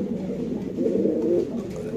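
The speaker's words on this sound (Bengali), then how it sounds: "দেখেন নর কি ডাকাটাই করে" A male pigeon coos steadily at a pigeon farm in Bangladesh, a low throaty rolling call that swells slightly in the middle, close and clear with no talk over it.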